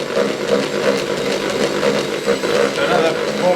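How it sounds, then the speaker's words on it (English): Bakewell tart mixture is whisked briskly in a bowl, a fast, continuous, rhythmic whirring scrape that runs close and steady throughout. "So I have to do at least 30 seconds with the whisking."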